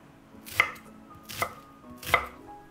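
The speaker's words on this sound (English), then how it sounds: "Cut an onion into large pieces." Knife chopping an onion into large pieces on a cutting board, three distinct sharp chops spaced evenly, close and clear.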